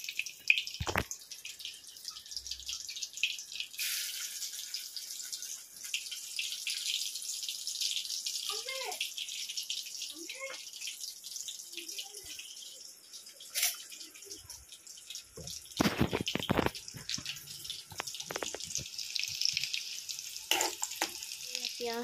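Onions and green chilies frying in hot mustard oil sizzle steadily in a pan at close range, with sputtering crackles, occasional stirring clatter and louder bursts near the end.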